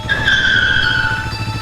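A motorbike brakes hard and skids to a halt, giving a loud sustained tire squeal with a steady engine rumble underneath, close and continuous throughout.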